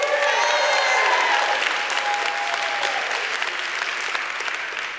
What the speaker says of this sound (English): I wasn't actually asking that for an applause.